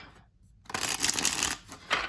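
Superlunaris tarot cards being shuffled by hand, a brief quiet pause followed by a dense, riffling flutter of card edges that swells loud and then trails off in a final short burst.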